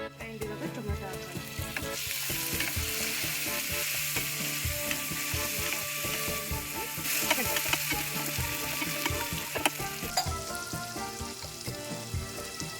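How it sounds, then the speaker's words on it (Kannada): Onion and tomato frying in a pan for a curd rice recipe give a steady, loud sizzle with occasional stirring scrapes and clinks, continuous and close, with no talking. "ಈರುಳ್ಳಿ ಚೆನ್ನಾಗಿ ಫ್ರೈ ಆಗುತ್ತೆ. ಆ್ಯಂಡ್ ಇವಾಗ ಟೊಮೆಟೊ ಹಾಕೋಣ."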